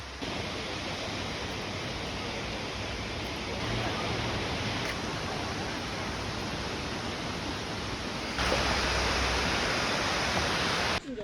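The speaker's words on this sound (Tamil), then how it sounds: "இங்கே சவுண்ட் வருது, இங்கே தான் கீழே போகுது பாரு. அந்த அருவி விழுகிற இடம் இதுதான்." Katoomba Falls in the Blue Mountains, Australia, makes a loud, unbroken roar of falling water that swells slightly partway through, heard close to the drop.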